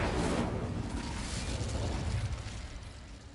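Confringo and Incendio spell blasts in a video game, a continuous loud roaring burst of fiery explosive noise filling the whole moment, dense and close with no pauses.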